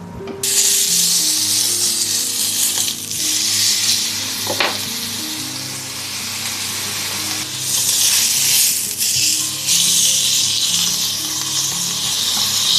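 Steak sizzling loudly in a hot pan on a French farmhouse stove, a steady dense hiss with crackling bursts that carries throughout, with no talk.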